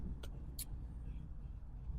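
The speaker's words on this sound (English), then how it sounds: "That thing's got a choppy small block." A truck with a small-block engine and a choppy idle, giving a low steady rumble close by, with two brief high hissing bursts early on.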